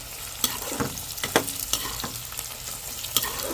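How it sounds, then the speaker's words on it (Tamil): Adamant creeper fries in oil with garlic, ginger and tamarind for a pickle, giving a steady close sizzle with scraping stirs of a spoon against the pan. "எண்ணெயிலே நல்லா வந்து நல்லா முருகி வெந்துடணுங்க பூண்டு இஞ்சி புளி எல்லாமே"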